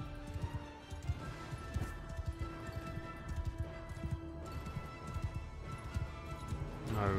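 Horse hooves clip-clop steadily through a charge in the video game Bannerlord, a British force invading the French, mixed with battle noise and a brief whinny-like sound near the end.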